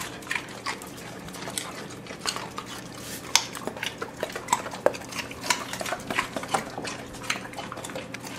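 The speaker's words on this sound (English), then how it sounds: "Oh, smack smacking your lips" A pet dog smacks its lips while eating a carrot treat, a steady run of small wet clicks and smacks at close range, with no talking over them.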